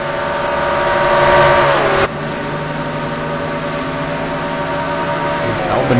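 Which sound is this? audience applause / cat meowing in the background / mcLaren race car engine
mcLaren race car engine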